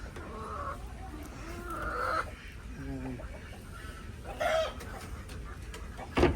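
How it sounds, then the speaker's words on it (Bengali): Hens newly released into a new poultry farm cluck in short, scattered bursts at close range, mixed with people talking nearby. "আমাদের প্রথম মুরগি ছাড়া হইলো"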